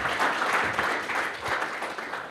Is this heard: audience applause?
yes